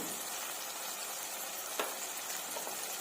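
Tomatoes fry in a pan with salt and turmeric for an egg dish, giving a steady, close sizzle with one brief clink partway through.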